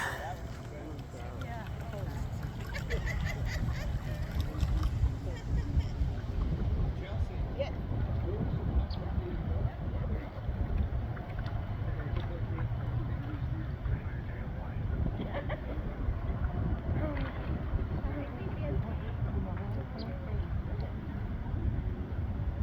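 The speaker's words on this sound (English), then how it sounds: "Thunder is the Ewer family's pride and joy as far as their RC boating" Large radio-controlled boat named Thunder running on open water, a steady buzzing motor drone with splashy hull noise and wind, a voice talking over it throughout.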